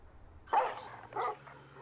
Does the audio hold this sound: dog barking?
yes